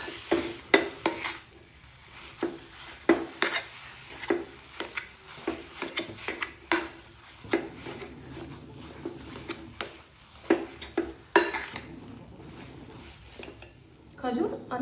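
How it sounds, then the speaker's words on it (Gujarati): Mawa being stirred into a ghee-free date mixture for khajoor barfi, with soft irregular scrapes and knocks of a spoon against a pan and a faint sizzle underneath, moderately quiet, while a person talks at times. "હવે આપણે આમાં એડ કરી દઈશું માવો અને બંનેને મિક્સ કરીશું"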